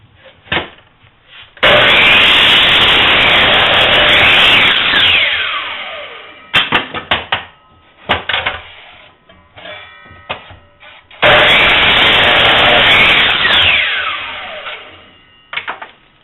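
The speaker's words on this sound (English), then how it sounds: "I'll rip it down nice and square and cut it off at the top on the chop saw and table saw" A table saw and jointer rip and cut wood for decorative corbels in a workshop, two long loud whining cuts with motors spinning up and winding down, separated by brief clatter of handling.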